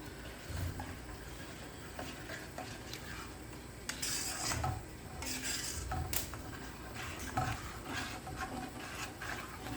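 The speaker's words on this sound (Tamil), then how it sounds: "ஸோ நம்ம கான்ஸ்டண்ட்டாக ஸ்டிர் பண்ணிகிட்டே இருப்போம்." A spoon scrapes and knocks against a metal pot while urad dal milk is stirred continuously, giving repeated close clinks and scraping strokes over a faint low hum.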